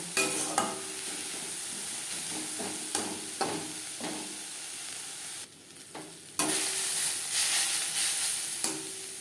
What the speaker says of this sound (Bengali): লবণ হলুদ দিয়ে পেঁয়াজ দিয়ে নেব